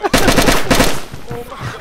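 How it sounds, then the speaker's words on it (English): Rapid video game gunfire rattles in a loud close burst of automatic shots, trailing into scattered softer pops. "They're shooting up out the window!"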